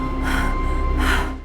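Heavy, breathless panting from two characters in the film Twisters, two drawn-out gasping breaths about a second apart over a steady low background hum, close and fairly loud.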